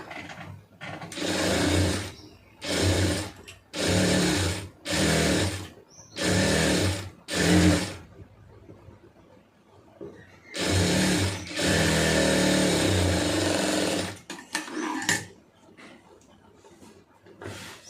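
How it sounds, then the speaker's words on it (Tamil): Sewing machine stitching a sleeve seam, running in loud close bursts of steady whirring, several short runs then a longer stretch, with pauses between. "தையலுக்கு எவ்வளோ விட்டுருக்கீங்களோ அதை வச்சு அப்படியே தையல் போட்டுருங்க"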